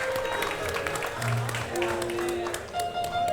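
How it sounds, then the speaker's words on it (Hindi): Studio audience clapping on a Hindi comedy talk show, a dense, even patter of applause with a few cheers and tones over it, lasting a few seconds. "जोरदार तालियां फॉर द एंटायर परिवार of the great Indian couple show"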